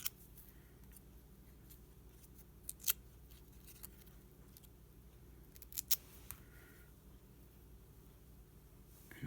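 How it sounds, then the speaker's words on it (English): Small scissors snip and scrape against paper while curling the wings of a paper butterfly, giving a few sharp, close crunches and clicks over a quiet room hum. "I'm going to take my scissors and I'm going to kind of curl my wings"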